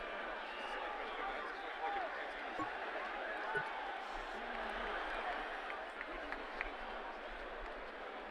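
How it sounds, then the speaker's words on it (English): Polite crowd applause in a cricket video game, a steady broad wash of clapping that holds evenly throughout, with a faint commentary voice under it. "He's getting a polite round of applause as he makes his way to the pavilion"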